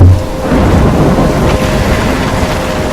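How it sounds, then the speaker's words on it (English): Thunderstorm in the video game Life is Strange: a loud, steady roar of heavy rain and wind with low rumbling thunder swelling through, continuous and close. "I'm trapped in a storm?"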